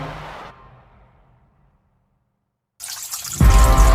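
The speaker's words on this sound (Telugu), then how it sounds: "ట్యాప్ ఎలా ఆన్ అయిందిరా?" A water tap suddenly turns on after a fading noise and a stretch of silence, releasing a loud, steady rush of running water close by, with no talking.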